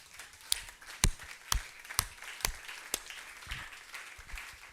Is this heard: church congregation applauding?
yes